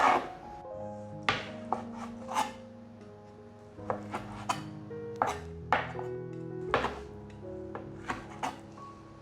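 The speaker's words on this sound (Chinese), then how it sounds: "准备一条面肠，把面肠切成小段，再来切成片状。" A knife chops a wheat gluten sausage into pieces and then slices on a cutting board, about a dozen crisp, separate thuds at an uneven pace, close and clear over soft background music, with no talking.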